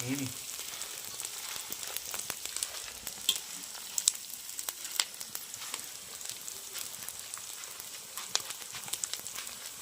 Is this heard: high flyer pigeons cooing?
no